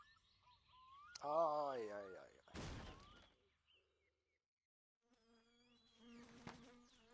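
A mosquito's thin whining buzz drones on in the video game My Summer Car, rising and falling in pitch and broken up by short bursts of other noise, with a spoken voice present at times.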